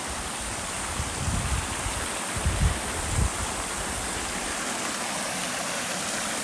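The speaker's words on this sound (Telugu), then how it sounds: "కొండల నుంచి వస్తున్న నీళ్ళు" A natural stream of hill water flows beside a resort near Araku, a constant rushing hiss with a few soft low thumps in the middle.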